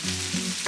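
Onion, bell peppers, carrot and jalapeno stir-frying in a hot pan for a shrimp lo mein, a brief close sizzle with scraping stir strokes.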